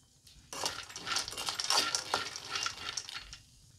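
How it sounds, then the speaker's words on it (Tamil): Peanuts roasting in a pan over a medium flame until golden brown: a steady, close rustle of dry scraping and rattling as they are stirred, continuing for a few seconds and then dropping away. "நல்லா கோல்டன் ப்ரௌன் வர வரைக்கும் வறுத்துக்கலாம்."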